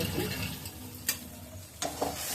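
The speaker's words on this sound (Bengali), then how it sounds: "ভালো করে কষিয়ে নিই" Whole spices and bay leaf with ground spice paste sauté in hot oil in a pan, giving a soft steady sizzle broken by a few sharp scraping stirs, close by and with no talking.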